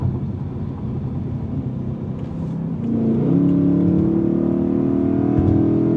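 A BMW E92 M3 engine accelerates in power mode, its loud, steady drone filling the cabin and climbing in pitch as the revs rise partway through.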